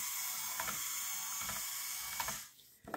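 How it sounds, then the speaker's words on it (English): A geared-down Lego Technic walking vehicle clicks and whirs as its gears turn, with a faint mechanical buzz and sharper ratcheting ticks at a slow, regular pace about once per second. "I have it geared down quite a bit right now, so it's kind of slow"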